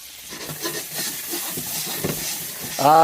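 Potatoes fry in butter that is browning in a pan, giving a steady close sizzle and crackle that swells slightly toward the end.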